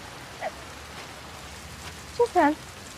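Light rain falls on a street at night, a faint steady hiss that runs throughout, with a few brief voiced sounds near the end.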